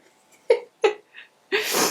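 A single sharp sneeze at the end, preceded by a few short breathy inhalations that build up to it, close and fairly quiet, with no talking.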